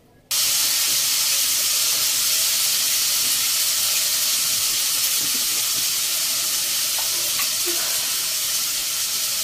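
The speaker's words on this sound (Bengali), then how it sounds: "এখন আলুটা পাশে ভাজতে বসিয়ে দেবো।" Cut potatoes frying in a pan, a loud, steady broadband sizzle that starts abruptly and continues evenly throughout, close up with no talking.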